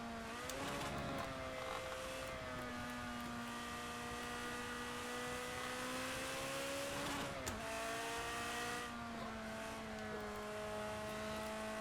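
A Ferrari in the Project CARS 2 racing game drives with a continuous engine drone whose pitch rises and dips as it accelerates and shifts. The sound is fairly quiet and steady throughout, with no talking.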